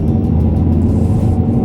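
Fiat EVO 3 petrol/LPG city SUV driving slowly through hairpin bends, giving a steady, loud low engine and road rumble from inside the cabin with no voices.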